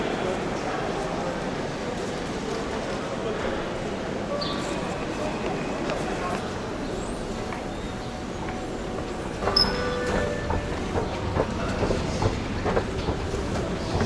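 A French railway station: train and rail noise rumble under a busy concourse, with some clanking and a rise in activity near the end, and people talking in the background.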